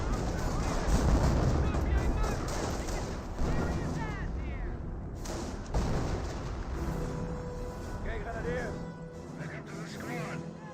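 Gunfire strikes a bunker in Company of Heroes, a real-time strategy battle, with repeated bursts and blasts mixed with other war noise under steady talk.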